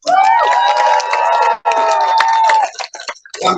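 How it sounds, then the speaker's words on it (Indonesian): A crowd at a political event cheers and shouts for vice-presidential candidate Mahfud in long, loud, sustained voiced yells. The cheering breaks briefly midway, resumes, then trails into scattered shouts. "Tepuk tangan."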